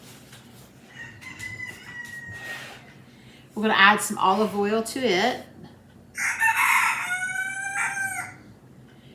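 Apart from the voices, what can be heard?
chickens clucking and a rooster crowing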